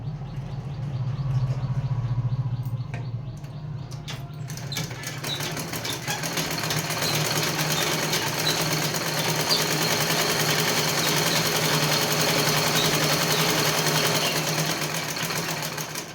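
A very old sewing machine stitching a blouse runs steadily, a loud mechanical whir with a rattling clatter throughout, close by and without talk.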